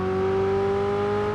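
A steady high-pitched McLaren engine drone in PUBG Mobile with a constant whine, close and continuous, like a car holding high revs.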